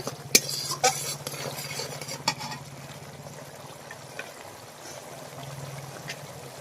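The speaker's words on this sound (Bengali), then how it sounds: "মশলাটা ভালো করে কষিয়ে নেব" Spice masala frying in a pan for a bottle gourd (lau) dish, sharp clinks and scrapes of a spoon stirring at the start, then a quieter steady sizzle with occasional taps.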